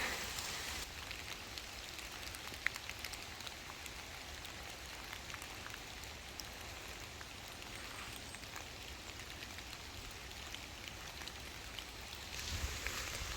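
Steady, dense heavy rainfall hisses across surfaces in a forest, a constant wash of drops with no voices, fairly even throughout.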